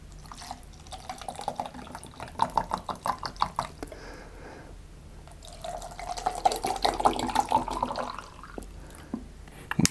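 Clear water pours into a container to be dyed red, giving two bursts of splashing, trickling liquid separated by a short lull, close and moderately loud.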